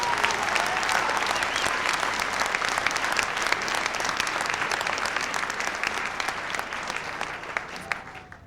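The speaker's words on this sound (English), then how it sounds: "Like a round of applause for the multimedia graduating class." Graduation ceremony audience at the Art Institute of Seattle applauds the multimedia graduating class, sustained crowd clapping with scattered cheers, slowly thinning toward the end.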